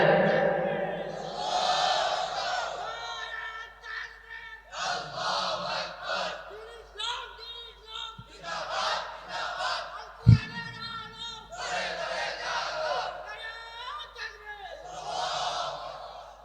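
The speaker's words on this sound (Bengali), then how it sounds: "জোরে তাকবীর দেন।" A large crowd at a Bangladeshi Islamic sermon gathering loudly chants takbir in repeated swelling collective shouts, each answering call rising and fading in waves across the whole stretch.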